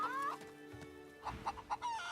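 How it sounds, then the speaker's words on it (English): Large hen in Divinity Original Sin 2 clucking in a short run of four or five sharp, fairly close clucks after a brief warbling call at the start, with soft game ambience beneath. "And you just go to this big chicken here."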